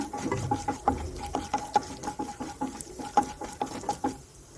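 Urad dal, chana dal and peanuts frying in a pan, a soft crackle with light clinks and scrapes of stirring at an irregular pace.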